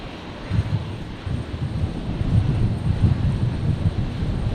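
An aircraft with Rolls-Royce BMW engines flying near Brisbane International Airport, heard as a steady, fairly loud low rumble that swells slightly and holds throughout, with some wind-like noise.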